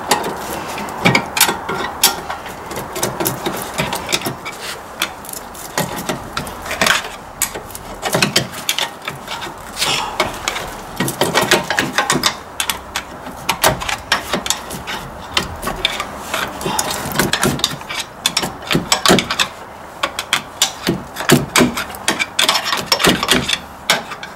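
Brake caliper on a Mercedes GLC43 being retracted by hand, giving a steady run of scraping, rubbing and ratcheting mechanical noise close up for about 24 seconds, with no talking.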